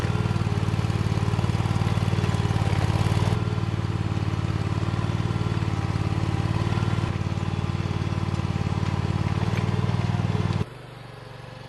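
Oggun walking tractor engine running steadily while hilling an acre of seed potatoes in Alaska, a loud continuous mid-pitched drone that shifts slightly in tone and drops off sharply near the end.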